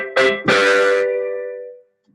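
Piano playing the top-hand part of a ballade in 5/4, a few struck notes ringing out clearly and alone, then decaying into quiet.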